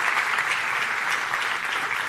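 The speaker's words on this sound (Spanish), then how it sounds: "Dale un fuerte aplauso al Señor." A church congregation claps steadily for a couple of seconds, a soft, even wash of many hands heard from a distance with no voices.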